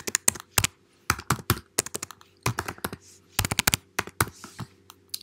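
Someone types code on a computer keyboard in quick bursts of crisp clicks, with short pauses between flurries of keystrokes, close and alone.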